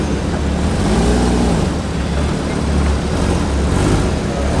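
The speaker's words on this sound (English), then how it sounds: "And more Porsche spinning in." A Porsche drives slowly into a car meet, its engine a steady, fairly loud low rumble that holds throughout with light revving and no talking.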